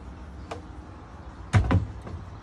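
Doors of a shabby chic armoire on an evening patio are swung shut, with a faint early click followed by a sharp double thud and a light rattle near the microphone.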